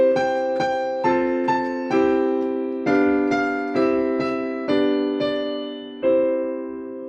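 Piano plays a short passage built on major chords, each chord struck firmly and left to ring, about a dozen attacks in an even, unhurried rhythm, heard close and alone.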